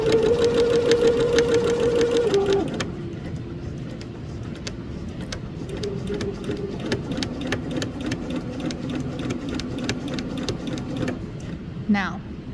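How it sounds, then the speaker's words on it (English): Sewing machine stitching fabric along a 5/8 seam toward a corner, a fast, even mechanical rattle close by, starting after a brief whine, with a person talking over it. "You're going to continue to stitch all the way to the corner,"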